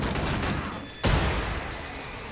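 Dense, continuous gunfire in the shooter Wolfenstein: The New Order, rapid overlapping shots with a heavy boom about midway through, loud and close.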